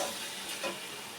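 A little cold water poured into soybean kosha cooking in a pan sets off a steady, close sizzling hiss with a soft bubbling swell, brief and unbroken by speech.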